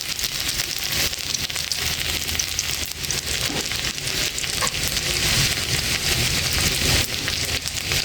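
Chopped ginger and garlic sizzle steadily in a little hot oil, a loud, continuous crackling fry with no voices.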